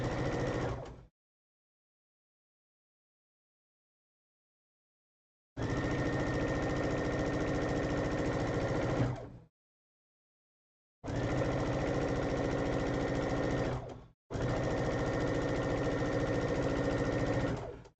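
A sewing machine fitted with a quarter-inch foot stitches in three steady bursts of a few seconds each, separated by silent pauses, close and fairly loud with no talking.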